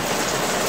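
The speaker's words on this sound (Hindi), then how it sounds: "आपको पता होगा आवाज़ कैसे आती है और आपको पता चल रही है बारिश हो रही है" Rain falling on a rooftop in Lahore, Pakistan, a steady dense hiss of drops that continues evenly and fairly close for under a second, with no voices.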